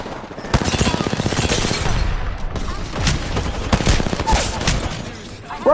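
Rapid, loud bursts of automatic gunfire in the video game Apex Legends, crackling close by in dense volleys with short gaps, tapering toward the end.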